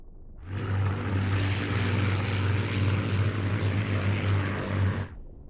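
A propeller fighter plane drones steadily in the video game Scramble: Battle of Britain. The low engine tone fades in, holds at an even, close level, then cuts off, with no talk.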